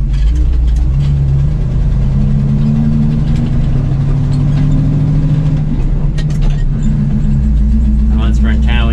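A truck hauling corn runs through its low gears into town, its engine a loud, heavy rumble that rises and falls between gear changes, with someone talking over it.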